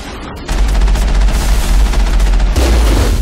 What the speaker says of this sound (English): I can tell that the enemies on the bridge are shooting at me now